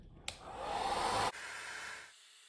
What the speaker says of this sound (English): I'm gonna switch on my hairdryer and start like moving the colors around